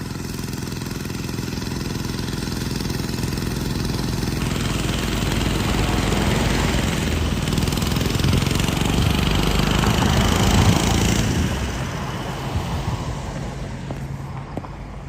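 A pesticide sprayer's engine, fitted with a golden Italian-style 3-foot spray wand, runs at a steady, loud mid-pitched drone with a hissing spray texture. It swells slightly, then eases off near the end.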